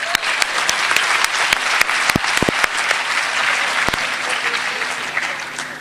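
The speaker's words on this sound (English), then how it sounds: "A big round of applause." Steady applause from a seminar audience fills the room for several seconds, dense clapping with a few sharper claps standing out near the listener.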